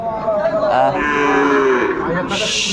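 A Sahiwal bull moos loudly in one long, drawn-out low call, close by, with faint background noise around it, at a livestock market.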